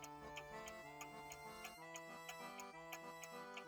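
Soft, steady ticking from a French antique table clock movement, evenly spaced beats heard close up and alone, quiet against a faint background tone.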